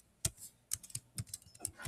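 Typing on a computer keyboard: a quick irregular run of sharp, close key clicks with brief pauses between bursts, heard alone.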